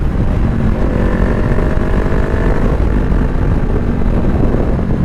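A 2020 Honda CBR500R motorcycle ridden on the road, its engine a loud, low continuous rumble mixed with heavy wind buffeting, steady throughout.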